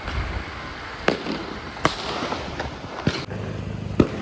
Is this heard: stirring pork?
no